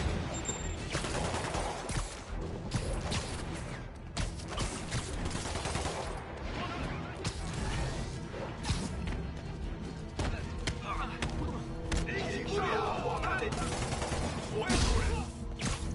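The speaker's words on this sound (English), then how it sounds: "Where am I being shot at?" Gunfire aimed at the player in the Spider-Man PS5 video game, a dense, continuous barrage of shots and impacts crackling throughout alongside game music and effects, with a voice talking over it.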